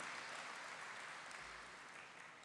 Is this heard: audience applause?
yes